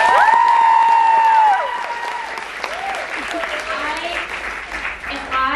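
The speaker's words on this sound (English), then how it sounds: "So give yourself a round of applause" Audience applause and cheering from a group of girls, loud and sustained, with high whoops and shouts over the clapping.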